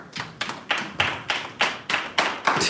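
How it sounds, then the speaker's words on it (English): A few people clap at a township board meeting in Thornton Township: sparse, evenly spaced claps, about nine in all, close and distinct, with no talk over them. "They got 4 people clapping."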